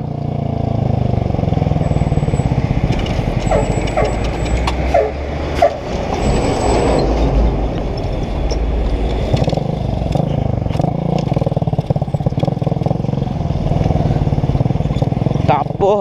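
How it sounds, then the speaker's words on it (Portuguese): Fiat Mobi engine running rough and misfiring, a loud continuous uneven drone with intermittent clattering, heard alone without talk. "A Mobi tá falhando."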